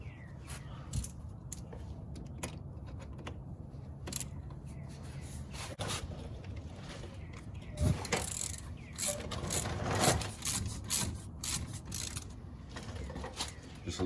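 A 7mm hex socket on an extension ratchets and clicks against a Mazda3 front brake caliper bolt, sounding as quiet, close, irregular mechanical clicks and scrapes with a few louder clunks.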